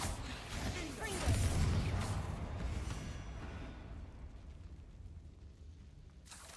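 Confringo fire spell exploding in the Hogwarts Legacy video game, a loud burst that swells into a rumbling roar and then fades away over several seconds, with no talk.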